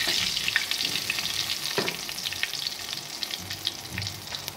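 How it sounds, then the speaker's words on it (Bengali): Whole spices, dried chili, two cardamom pods and panch phoron frying in a pan, a continuous close sizzle with light crackles and brief scraping stirs throughout. "একটু নেড়ে নেব"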